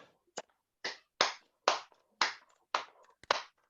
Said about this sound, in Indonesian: Coba tepuk solmisasi mi.